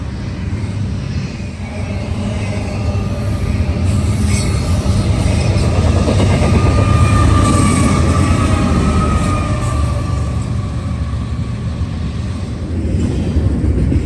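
Freight train 1066 rolls past with a GEVO and an AC44C6M as distributed power units in snowy weather, a steady loud rumble of railcars with squealing wheels and a rising tonal whine in the middle.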